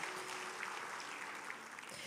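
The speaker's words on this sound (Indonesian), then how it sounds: "Kasih tepuk tangan buat Allah kita." A church congregation claps at a prayer service, a soft, steady patter of many hands at a moderate distance, fairly faint and continuous.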